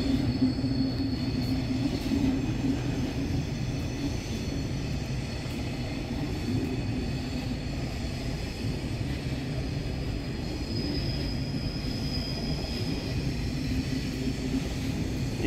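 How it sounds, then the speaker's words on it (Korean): A KTX high-speed train near Seoul Station passes with a steady, heavy rumble filling the whole stretch, a continuous low roar of rail cars rolling past at constant loudness. "퇴근길에 지금 KTX가 가고 있습니다"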